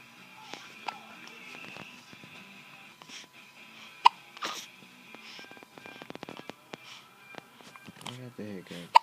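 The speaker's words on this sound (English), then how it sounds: "I got the hiccups." A person has the hiccups, with a few sharp, short hiccups spread through a busy, noisy room, mixed with shuffling, footsteps and people talking.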